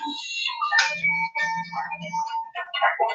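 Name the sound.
phone ringing with an incoming call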